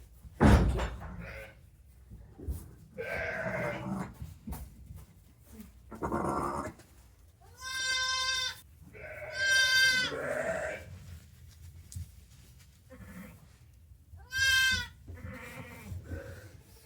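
Ewes and lambs bleat in a farm barn during lambing season, several clear harmonic calls in short bursts, some close and loud, others softer, over low barn rustling with a door knock near the start.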